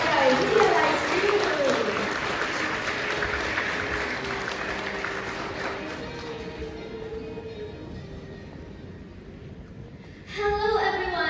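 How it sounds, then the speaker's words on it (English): Applause from the audience at a children's readers' theatre event, a sustained wash of clapping that fades gradually, then a voice begins speaking at the end. "Big round of applause for welcoming Wunderbar team from Phukan, Realize You."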